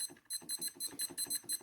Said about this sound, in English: lots more annoying beeping.